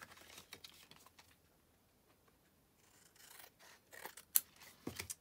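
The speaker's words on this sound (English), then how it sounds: "And then you can just trim off the edges here" Scissors trim the edges off a sheet of card stock at a card-making table, making a few quiet, close snips and rustles spread over several seconds, with no talking.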